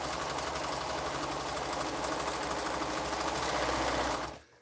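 A sewing machine stitches down a quilt seam with a continuous, close, whirring hum. The run is steady and loud, then stops abruptly near the end.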